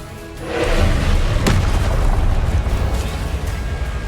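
Spellcasting in the video game Hogwarts Legacy, with Incendio and Expelliarmus cast in quick succession: a loud booming burst with a sharp crack near the middle, then a sustained rumbling roar that stays heavy to the end.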